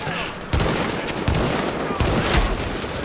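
Rapid automatic gunfire in The Division, several loud close bursts and single cracks over a continuous battle din, with a voice talking faintly underneath.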